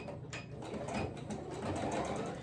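A sewing machine stitching pieced fabric scraps for a crazy quilt, a fast steady mechanical whir with rapid needle ticks, close and continuous.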